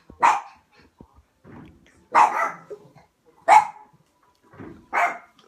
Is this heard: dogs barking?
yes